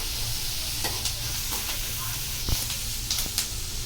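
Mushrooms drop into onions frying in a pan for a South Indian mushroom palya, giving a steady close sizzle with a few brief stirring scrapes and no talk.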